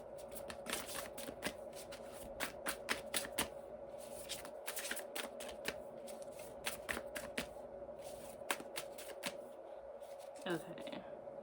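Soft, rapid riffling and slapping of tarot cards being shuffled close by, in irregular bursts over a faint steady hum, with a brief voice near the end.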